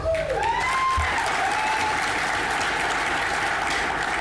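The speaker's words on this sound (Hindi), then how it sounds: "इस साल के सक्सेस के लिए फिर एक बार आप सभी के लिए जोरदार तालियां" An audience at a company event in a Hyderabad hotel claps steadily and densely, a loud sustained wash of applause filling the room with a few faint voices underneath.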